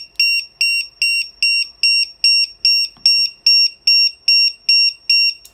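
An add-on anti-theft alarm on a motorcycle sounds a steady string of about a dozen loud, piercing electronic beeps at a regular pace, close and continuous, with no one talking.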